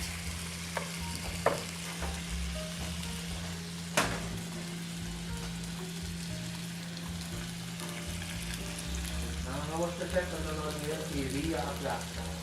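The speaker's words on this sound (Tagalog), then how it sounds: "Pag medyo nag-brown yung chicken natin, nag-caramelize na ng konti, papasok na yung gisa natin." Chicken and sautéed aromatics sizzling and being stirred in a claypot, a steady close hiss with occasional scrapes and knocks, and brief voices in the background.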